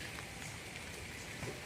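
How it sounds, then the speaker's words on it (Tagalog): Steady rain falls on a grape farm, a dense continuous hiss of drops hitting surfaces at an even level throughout, with no voices. "Ayan, ulan-ulan na tayo kailyan."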